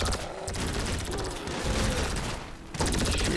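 Shotguns fire in a zombie-survival session of GTA Online. The gunfire comes as a dense, loud fusillade of rapid cracking blasts that barely pause over a few seconds.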